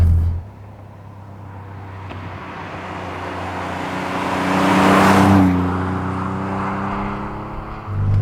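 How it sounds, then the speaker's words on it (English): Alfa Romeo 147 GTA with Busso V6 engine and exhaust driving around town, a steady meaty drone that swells louder mid-clip as revs rise, then settles, with passing road noise. "The exhaust in this is actually judged pretty well. It's got a really nice meaty tone when driving around town"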